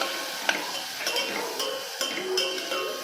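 Chopped onions, both regular and sambar onions, fry in a pan for an Andhra-style spinach dal, giving a steady soft sizzle with occasional scraping clicks from a stirring spoon against the pan.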